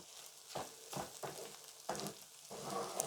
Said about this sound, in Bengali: এখন আমি এটা ভালো করে একটু ভাজা ভাজা করে নিব